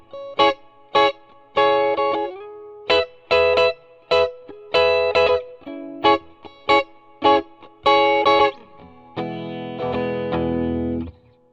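An electric guitar played through its neck pickup with effects, chugging out short repeated chords and stabs in a bouncing triplet-like rhythm, ending on a sustained ringing chord, close and loud with no voices.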